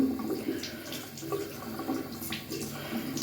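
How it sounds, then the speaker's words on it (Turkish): A tap runs lightly with lukewarm water while a makeup brush is rinsed under it, a soft splashing trickle with uneven wet spatters throughout. "bu fırça çok az bir şekilde suyu açtım ve yıkıyorum fırçayı"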